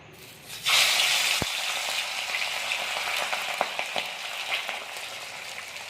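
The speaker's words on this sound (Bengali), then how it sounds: "এবার আমরা মাছটাকে ভেজে নেব" Pabda fish hits hot oil in a wok, setting off a sudden loud sizzle that keeps crackling steadily, with a few sharp spatters and utensil knocks along the way.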